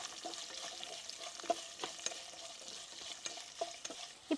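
Garlic and split small onions sauté in oil in a pan for an eggplant dish, giving a soft, faint sizzle with scattered stirring clicks and scrapes and no voices.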